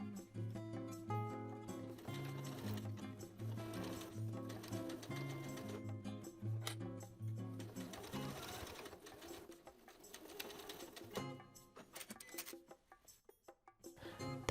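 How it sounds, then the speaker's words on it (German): A sewing machine topstitches the edge of jeans in contrast thread, its rapid mechanical stitching running in steady bursts with brief pauses and slowing near the end, quiet and close. "Die Kante wird nun mit 9 mm Abstand in kontrastfarbigem Garn durchgesteppt."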